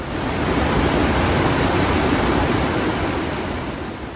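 Muddy floodwater pours over an overflowing dam in Gujarat during flooding, a steady loud broadband roar with no pauses and no voices.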